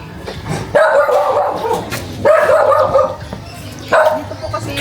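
A dog barks in three loud, close bursts of rapid yips and barks, separated by short pauses, near where the family dog gave birth to her puppies.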